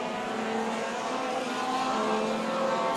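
Legend cars race at Tucson Speedway in a 32-car field, their engines blending into a steady, distant roar of pack racing with no talk heard.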